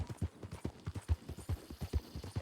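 Horse hooves clip-clop steadily in Red Dead Online, a brisk rhythmic trot of low thuds close by, with no talk over them.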